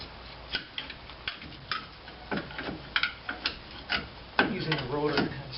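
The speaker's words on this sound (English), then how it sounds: "to get the caliper off the rotor, usually you have to have a really large screwdriver in here. Pry it up and back and forth a little bit." A large screwdriver pries a brake caliper off the front rotor of a 1997 Pontiac Grand Am, making close, irregular metallic scrapes and clicks, with brief talk near the end.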